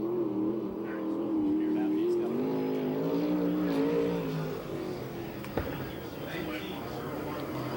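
A USAC/CRA sprint car with a 360 engine runs a lap at Perris, its engine droning steadily and then fading, with a commentator talking over it.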